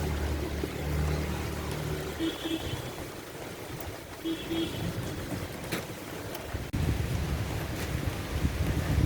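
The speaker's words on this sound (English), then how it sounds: "Check it out, it's raining real hard." Steady hiss of heavy rain with low rumbling underneath, a few faint tonal beeps, and a sudden louder burst near the end.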